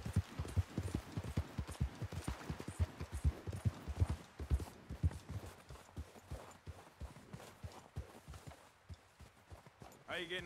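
Horse hooves clip-clop steadily in the video game Red Dead Redemption 2, a close, rhythmic trot of distinct beats that eases toward the end, with some speech mixed in.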